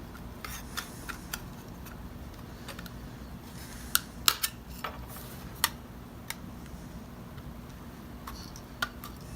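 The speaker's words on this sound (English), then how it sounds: "A lot of little pieces I cut out like this is just with my hand shears," Hand shears cutting small pieces of armor: scattered sharp snips and clicks, some close and crisp, others softer, spaced irregularly over steady low background noise with no talking.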